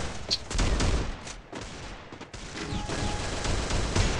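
Sniper fire and other gunshots in a shooting video game, a dense run of loud cracks and bursts filling the stretch with a brief lull midway, no talk.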